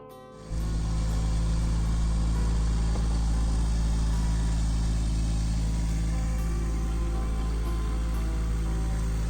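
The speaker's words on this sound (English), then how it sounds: "Tractor trailer." A tractor trailer engine idles at a campsite with a steady, deep rumble close by after a brief quiet start, holding a constant low drone throughout.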